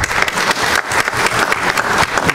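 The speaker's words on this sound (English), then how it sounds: "Clap for Morgan Butler" Lively applause from a conference audience, close and fairly loud, with individual claps audible in an irregular rhythm through a crowd's steady patter.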